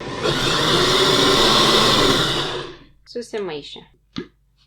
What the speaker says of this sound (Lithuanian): Ir dar truputėlį paplakam, kad tikrai viskas būtų susimaišę